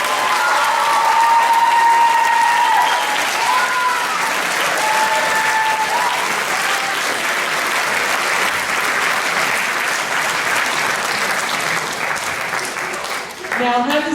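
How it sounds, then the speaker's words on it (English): Sustained, loud applause fills a school concert hall for the graduating seniors of a symphonic winds group, steady clapping from a large audience throughout, with a few voices and a whistle rising above it. "A round of applause for our graduates"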